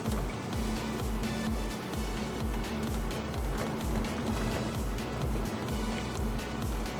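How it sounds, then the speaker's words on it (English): A 2018 Mercedes-AMG C43 4Matic's V6 engine hums low and steady from inside the cabin while driving, a constant drone with a faint rhythmic throb and no voices over it. "Do you hear that V6 hum?"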